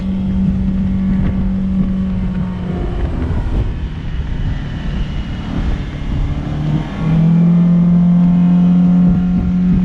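A 2014 Bennington S24 tritoon boat motor runs at about 5,800 RPM, reaching 38 mph, a loud steady drone with a rising pitch toward the end, alongside water and wind rush.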